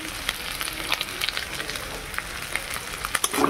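Chili and cumin powder sauté in a hot pan with a loud, dense sizzle and crackle, punctuated by stirring scrapes and a few sharper spits near the end.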